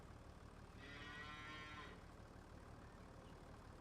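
Cattle mooing in the farming game Farming Simulator 25, a single drawn-out moo about a second long, fairly clear over a steady low background hum, with no talking.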